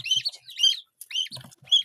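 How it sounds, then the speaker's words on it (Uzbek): Five-day-old Indian Runner duck chicks peep in quick, high, bright bursts, several short calls in clusters with brief pauses, close by and clear with no talking. "Mana tayyor jo'jalarimiz, indiyskiy begunoklar."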